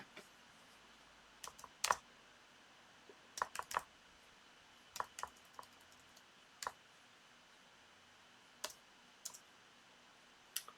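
Computer keyboard keys are struck in short irregular bursts of close, crisp clicks, with quiet pauses between them and no talking.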